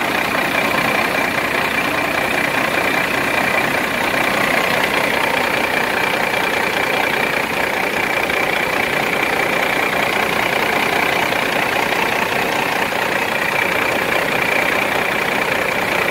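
A Cummins ISX diesel truck engine idling with slight blow-by, a steady, loud, close rumble that holds unchanged throughout with no voices.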